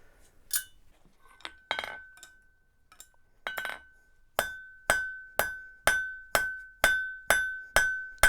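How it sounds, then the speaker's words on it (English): A heritage blacksmith hammers out the catch on a metal bottle opener, first a few scattered ringing blows, then a steady run of about nine evenly spaced, bright clanging strikes close by. "So I'm just going to hammer out this wee bit here."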